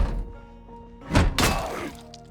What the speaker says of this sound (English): It doesn't hear this huge amount of noise that John's making with this sledgehammer